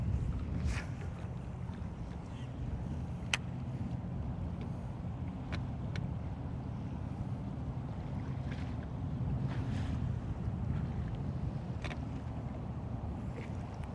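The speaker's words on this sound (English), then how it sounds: "But I am not afraid of the wind" Wind blows steadily over a fishing boat on Lake Guntersville, a continuous low roar with gusty buffeting against the microphone and a few faint knocks.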